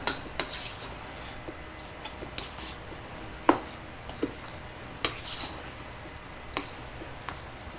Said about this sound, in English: So as you are adding, you'll be stirring so that you get an even mixture